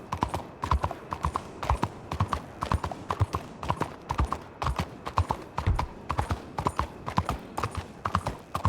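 Horse hooves clip-clopping steadily in Red Dead Redemption 2, a brisk, even rhythm of many sharp hoof strikes close by, running continuously with no talk over it.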